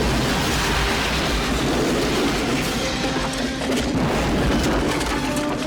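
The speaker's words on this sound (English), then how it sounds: "And even arrows can cause explosions now." A deep, rumbling blast in the film Hard Target, a house blown up by an arrow, sustained over several seconds, loud and booming with crashing debris, heavy low-end roar throughout and no talking.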